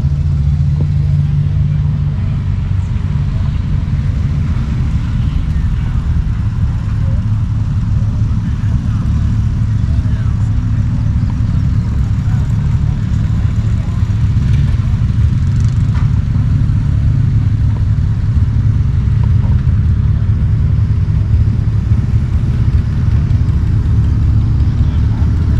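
A 1946 John Deere Type W stationary engine running steadily, a continuous low chugging rumble that stays loud and even throughout.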